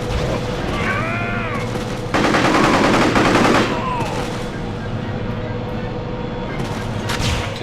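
Assault rifle fire in the video game Psi-Ops, a loud dense rattling burst of automatic shots over a steady game soundscape, with other game effects before and after the burst.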